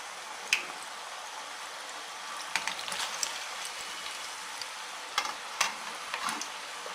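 Janthikalu, rings of murukku dough, fry in hot oil with a steady crackling sizzle. Sharper pops and spits break through now and then, close and at a moderate level.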